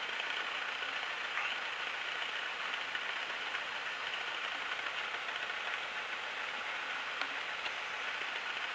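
Cessna Skyhawk 172 engine idling on the ground, its prop wash blowing toward the woods, giving a steady, even propeller drone that holds at a constant level with no talking.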